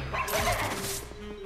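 A dog barks in the video game Luigi's Mansion 3: one short, crashing burst of yapping rises and then fades over about a second against a low game backdrop.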